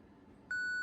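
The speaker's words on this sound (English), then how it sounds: "Get a beep from the radio, that's what we want." A single steady electronic beep from a Kenwood Nexedge two-way radio starts midway and holds, loud and clear, over a faint low background hum.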